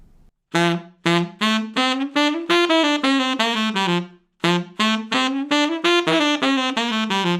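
Two phrases of saxophone notes tongued with the back of the tongue, blunt, slightly smeared attacks, played close and loud, each phrase a quick run of connected notes.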